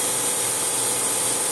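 Steady, loud grinding hiss of a bench grinder stone being dressed, a continuous broadband rush with no pauses and no voices.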